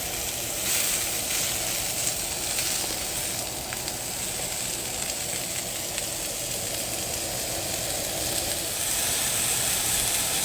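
Beef suya kebabs sizzle in a pan in place of a grill, a dense, loud, continuous frying hiss with no talking.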